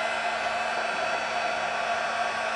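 An embossing heat gun blows at the craft table, giving a steady, loud, unbroken rush of hot air with a faint whine underneath and no speech.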